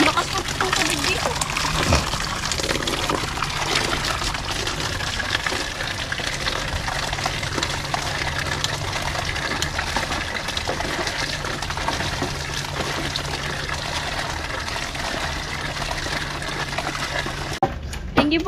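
Water gushing from a newly installed Jetmatic hand pump, a steady splashing rush that runs almost the whole time, with voices nearby.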